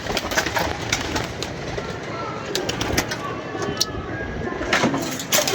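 Pigeons coo repeatedly near a rooftop pigeon loft, soft rolling calls in a steady rhythm over faint outdoor background, with a voice occasionally under them.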